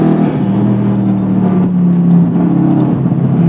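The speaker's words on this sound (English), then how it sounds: "And you floor it and it's quick." A 650+ BHP Stage 3 Audi S6 pulls hard at full throttle, its engine note loud, steady and rising from inside the cabin, with no talking over it.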